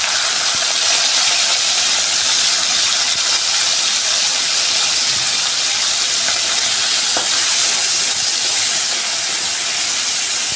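Prawns frying in hot oil for mixed chowmein, a loud, dense, continuous hiss of bubbling oil filling the whole stretch at close range with no talk.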